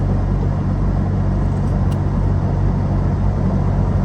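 Steady road rumble and engine drone from inside a moving car on a country drive near Los Olivos, loud and continuous with no voices.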